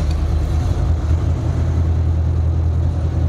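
A warmed-up 2014 Honda VFR800 motorcycle idles on its centre stand, a steady low engine rumble with an even throb, close and alone throughout.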